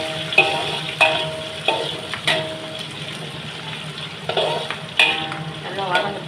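Onions and chillies sauté in a pan for Maggi noodles, a soft continuous sizzle broken by repeated sharp clinks and scrapes of a spatula stirring at an irregular pace.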